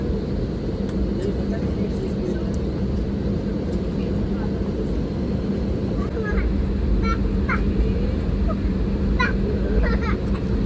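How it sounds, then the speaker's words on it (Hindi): Steady loud engine drone of an airliner taxiing on a runway shortly before takeoff, a continuous low rumble throughout with faint chirps on top, heard from inside the cabin. "तो बस अब हम उड़ने ही वाले हैं।"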